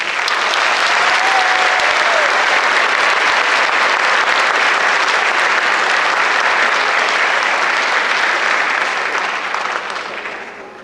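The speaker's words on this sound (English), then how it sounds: "So please give her a round of applause." Sustained applause from an audience at a 2022 senior awards ceremony, greeting a student award recipient; dense, steady clapping fills the room at an even level and fades slightly at the very end.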